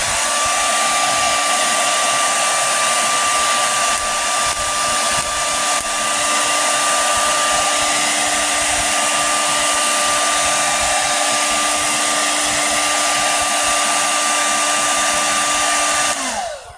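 A hair dryer blows steady heat onto a G.I. Joe Classified Python Patrol Vypra action figure, a loud continuous whine held close for about sixteen seconds before switching off.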